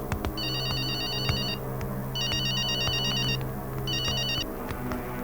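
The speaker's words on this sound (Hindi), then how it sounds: "आपके लिए फोन है" A phone rings in three electronic bursts over a busy indoor background with thumps and a low steady hum, no voices.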